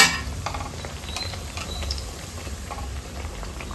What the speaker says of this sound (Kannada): ಈಗ ಚೆನ್ನಾಗಿ ಫ್ರೈ ಮಾಡ್ಕೊಳ್ಬೇಕು